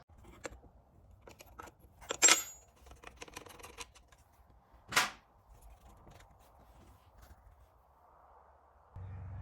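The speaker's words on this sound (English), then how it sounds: "now that I get the carburetor bolts loosened" Small metallic clicks and a couple of sharper ratchety snaps from a wrench working the carburetor bolts loose on a 1955 Lawn Boy 8F20 mower, close and intermittent in a quiet space.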